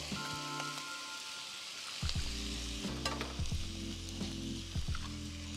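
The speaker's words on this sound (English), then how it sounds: "I'll start cracking my eggs right here in the inside" Eggs cracked into a hot pan and scrambled for shrimp fried rice sizzle steadily. The sizzle grows louder after a moment, and a spatula taps and scrapes close by.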